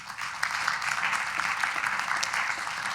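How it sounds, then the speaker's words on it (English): Applause from attendees at an annual township town meeting, a sustained, moderately quiet patter of many hands clapping in a hall, with no voices over it. "So let's give a round of applause for the Citizens League."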